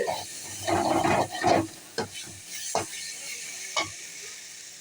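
A spiced vegetable mixture with chilli powder, for a bitter gourd kootu, is stirred in a pan, giving soft scraping and light sizzling with several distinct spoon strokes near at hand.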